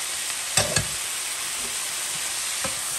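Beef in bean sauce sizzles in a hot pan as green onions are stirred in. A steady frying hiss runs throughout, with a few close scraping stirs along the way.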